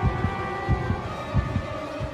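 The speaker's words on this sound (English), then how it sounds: "Yeah, I think that's my heart beating, because I'm up high." A heartbeat sound effect in the horror video game Dagon: a low double-thump throb repeats steadily and muffled under an ambient drone.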